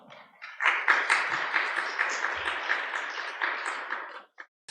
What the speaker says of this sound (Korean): 우리 목사님 올라오실 때 우리 같이 박수로 이렇게 환영하면 좋겠습니다